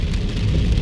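Rain falls more heavily on a car heading south along Nellis Boulevard toward Henderson near Las Vegas, a dense steady hiss over a low road rumble.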